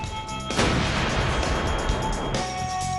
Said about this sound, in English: There's a brand new howitzer making its way to the fight.